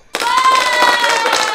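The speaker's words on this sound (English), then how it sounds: "You're too early with the claps." An audience breaks into loud, steady applause that starts abruptly and continues evenly, with cheering mixed into the clapping.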